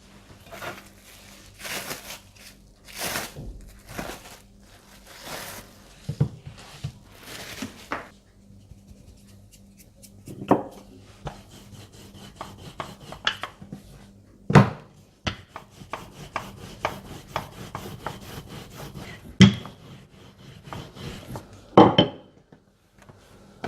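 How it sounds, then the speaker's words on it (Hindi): Shortcrust pastry dough rolled out on a lightly floured work surface, heard as close, irregular knocks, taps and soft rubbing scrapes that come and go with no voices. "अपनी वर्किंग सरफेस पर हल्का सा मैदा डालकर अपनी पाई प्लेट के मुताबिक रोल कर लें।"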